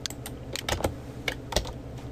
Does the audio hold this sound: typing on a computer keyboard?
yes